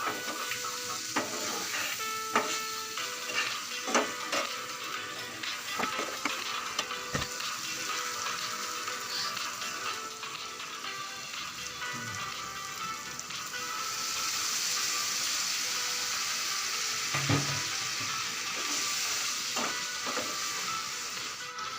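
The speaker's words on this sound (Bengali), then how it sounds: "লবণ দিয়ে মিশিয়ে নেব কষ এরপর আমি কষিয়ে" Shrimp with salt and chili powder sautés in a pan for a shrimp and okra dish, a continuous sizzle broken by scraping stirs and utensil clinks against the pan, close and steady throughout.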